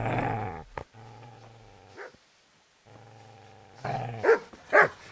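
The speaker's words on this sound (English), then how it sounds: "Get away, you mutt!" A dog growls in the medieval role-playing game Kingdom Come, with rumbling snarls in two stretches separated by a short pause, followed by a couple of sharper bark-like bursts near the end.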